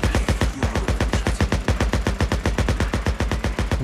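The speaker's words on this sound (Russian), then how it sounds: "Я слышу выстрелы." Gunfire in the video game Days Gone, a loud, rapid run of evenly spaced shots firing continuously like an automatic weapon.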